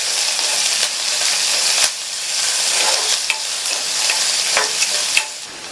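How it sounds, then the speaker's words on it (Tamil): Onion, garlic and curry leaves sauté in hot oil, giving a loud continuous sizzle broken by the scrape and clatter of stirring, heard alone up close. "இது கூட கறிவேப்பிலை சேர்த்து எல்லாத்தையும் லைட்டாக 1 நிமிஷத்துக்கு வதக்கி விட்டுக்கலாம்."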